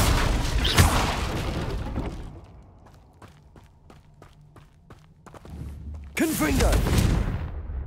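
Confringo blasting curse explosions in the Hogwarts Legacy video game: loud bursts open and close the scene, with a run of sharp, evenly spaced impacts in a quieter middle stretch and voices over the blasts.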